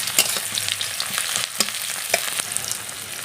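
Chopped onions frying in mustard oil after tempering, stirred in a pan with a lively sizzle and intermittent scraping strokes, close up and without talk.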